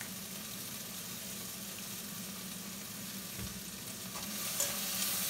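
Onions sizzle in a pan with a spoon of salt while being stirred, a faint, steady frying hiss with occasional scrapes that grow slightly louder toward the end.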